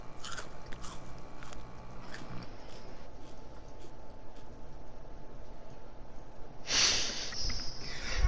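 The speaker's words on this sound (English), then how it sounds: "The chewing noises." Wet, crunchy chewing and biting in Five Nights at Freddy's: Sister Location, quiet and close, with scattered snorts and scrapes and a louder burst near the end.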